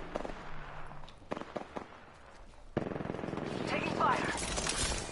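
Gunfire in Apex Legends: scattered single shots early, then a sustained rapid automatic burst of rattling fire, loud and close, with voices speaking over the fight.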